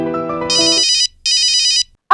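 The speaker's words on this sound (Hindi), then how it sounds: "फोन बज रहा है तेरा।" A telephone ringtone chimes loudly in two bright bursts after a brief tune, close and clear.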